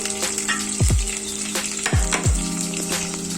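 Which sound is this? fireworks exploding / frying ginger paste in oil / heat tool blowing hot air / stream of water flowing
frying ginger paste in oil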